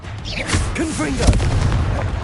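The Confringo explosion spell detonates in Hogwarts Legacy, giving a few deep booming blasts and pops, and a voice talks over them.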